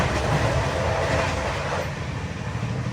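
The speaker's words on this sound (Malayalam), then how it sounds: "ട്രെയിൻ ഇപ്പോൾ 130 km/h സ്പീഡിലാണ് പോയിക്കൊണ്ടിരിക്കുന്നത്" A Vivek Express train rushes along at about 130 km/h, a steady loud rumble and roar of wheels on rails throughout, with no voices.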